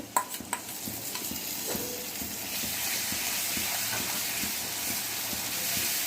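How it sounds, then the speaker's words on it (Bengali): Cumin paste hits hot oil for a tempering, starting with a few clinks and stirs, then settling into a loud, even hissing sizzle that holds steady close by. "একটু জিরে বাটা দিয়ে দিলাম জিরেটা ভেজে আমি বেটে নিয়েছি"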